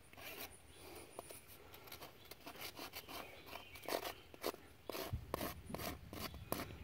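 A farrier's rasp files the sharp edge off a miniature horse's hoof, producing rapid, close, gritty scraping strokes in an even rhythm with no talking.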